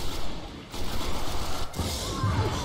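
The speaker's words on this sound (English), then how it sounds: "I like how we just walk in and start shooting at the guys that are sitting waiting" Gunfire from the video game Destiny crackles continuously through the whole stretch, a dense fusillade of shots at steady loudness with no voices over it.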